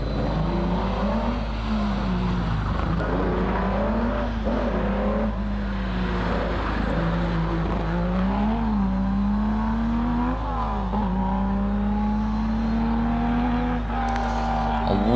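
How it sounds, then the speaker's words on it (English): A Holden LJ Torana race car grinds steadily around a hairpin at a hillclimb, its engine note rising and dipping through the corner as it climbs, loud and continuous throughout. "the Steve Harver-like Holden LJ Tirana now makes its way around the hairpin"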